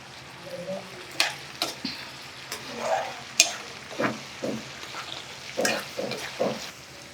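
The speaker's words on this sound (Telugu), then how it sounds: "ఇదిగోండి కొంచెం జీలకర్ర కొంచెం ఎండుమిర్చి ఉల్లిపాయలు ఇగో" Cumin, dried red chillies and onions frying in oil in a pan, a soft background sizzle punctuated by repeated sharp stirring scrapes and spatter bursts at an irregular rhythm.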